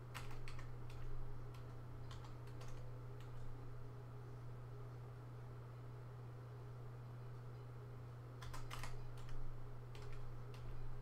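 Keys clatter on a computer keyboard in two bursts of quick typing, near and moderately loud over a steady low electrical hum, with a long quiet gap between them.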